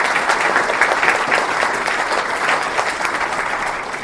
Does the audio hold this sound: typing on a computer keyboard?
no